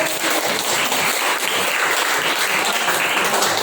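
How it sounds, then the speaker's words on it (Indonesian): A ninth-grade class claps loudly and continuously, a close, crowded wash of hands that stays at full strength from start to finish. "Baik, tepuk tangan"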